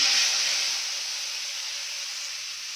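A spice paste of green chili, mustard and poppy seed hits a hot kadai, giving a steady close hiss that starts loudest and eases into a softer, even sizzle with no talking.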